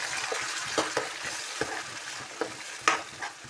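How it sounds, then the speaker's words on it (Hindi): Ginger and garlic fry in a pan for a pakora masala, giving a steady crackling sizzle broken by repeated scraping stir strokes, close and clear with no talking. "अदरक लहसुन जो है यहाँ पे डाल लेते हैं।"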